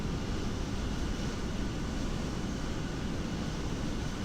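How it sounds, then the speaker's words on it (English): Airbus A320 thrust reversers roaring after touchdown in a flight simulator, a loud, steady broadband rumble with no break and no voices. "Smooth touchdown, spoilers, reverse green, and we have decel."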